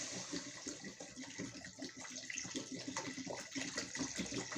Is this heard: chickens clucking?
no